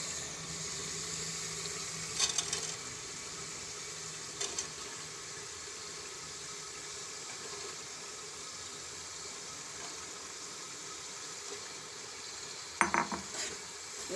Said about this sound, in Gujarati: તો હવે આપણે એમાં ગુવાર નાખી દેવું